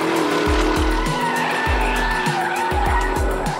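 A Porsche Cayenne is driven hard through corners, its tires squealing and skidding in repeated bursts over a loud, steady engine drone, with no talking.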